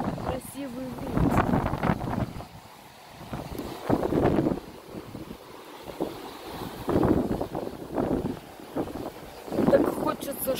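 Strong gusty wind blowing outdoors by the water on a late-summer evening, a steady broadband rush swelling in waves across the clip, with someone talking over it.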